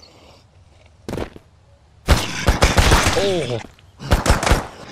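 Shotgun fire in the zombie survival game Mist Survival: a lone sharp shot, then a dense burst of rapid blasts and a final cluster of shots, with a startled voice exclaiming amid the shooting.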